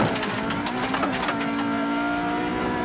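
A rally car tearing along a rough course at full speed in the Rallye des Draveurs 2006, engine revving hard and close with tire noise and gravel scrabbling.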